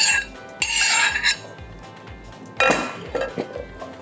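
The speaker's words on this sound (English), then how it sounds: "We're gonna put these in a bowl and start mashing them down with a potato masher" Boiled, soft potatoes mashed with a potato masher in a bowl: repeated dull squishy thumps in a steady rhythm, broken by a few louder clinks and scrapes of metal against the bowl, close and fairly quiet.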